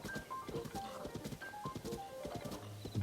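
Horse hooves clip-clopping at a steady trotting rhythm in The Legend of Zelda: Tears of the Kingdom, close and continuous over a light game music background with faint tonal notes.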